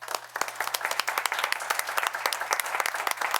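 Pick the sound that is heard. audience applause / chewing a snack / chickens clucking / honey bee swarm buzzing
audience applause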